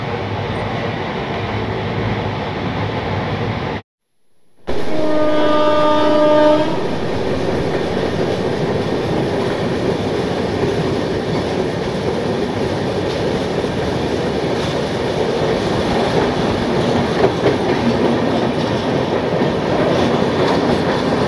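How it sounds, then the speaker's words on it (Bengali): Puri Howrah Shatabdi Express on the Puri to Balasore run: a brief loud horn blast rises over the train, then a steady rolling rumble of wheels on rails continues, with one short dropout early on. "দুশো 68 কিলোমিটার যাত্রা সম্পন্ন করে আমাদের ট্রেন পুরী থেকে এখন বালেশ্বর রেলওয়ে স্টেশনের 3 নম্বর প্ল্যাটফর্মে"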